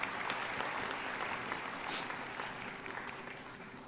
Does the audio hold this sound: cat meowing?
no